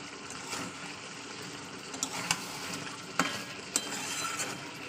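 Chicken kosha stir-fries in spices and released oil in a pan: a quiet, steady sizzle with a few soft clinks of stirring.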